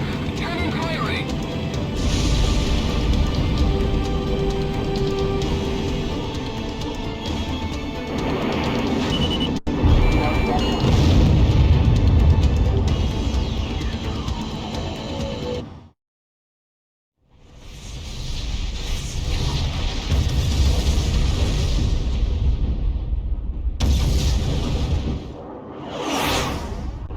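Loud, dense rumbling blasts and roaring explosions from a fortress being destroyed, with a cannon firing, in the Ace Combat flight video game. The roar is continuous and broken by a sudden silent gap before more sweeping blasts and whooshes.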